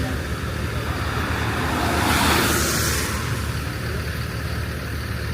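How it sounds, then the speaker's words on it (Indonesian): Buses race along a rain-wet highway near Pekalongan at night. A constant roar of traffic swells as one vehicle rushes past close by at mid-stretch, then settles back to a steady rumble. "Tengah malam habis hujan terus ngeliat bis pada balapan dari sana."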